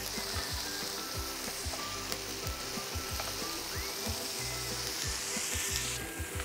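Tomatoes sizzle steadily in a hot frying pan as their skins blister, a dense crackling fry that continues unbroken at close range.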